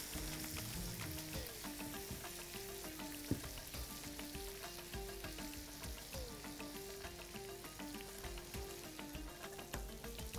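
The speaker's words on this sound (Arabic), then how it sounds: "ونقلب اللحمة عشان بس ما فيش حاجة تكلكع معانا" Beef fillet sizzles steadily in a hot pan, a dense continuous frying hiss with a sharp clack as the meat is flipped partway through, heard alone without speech.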